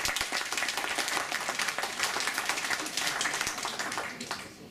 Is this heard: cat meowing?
no